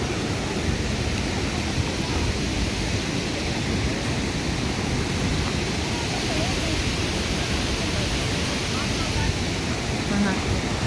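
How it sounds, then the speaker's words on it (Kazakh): A mountain stream on Merke mountain rushes loudly and close by, a steady unbroken wash of water noise with no pauses throughout. "аяқта су сырқырап ағып жатыр."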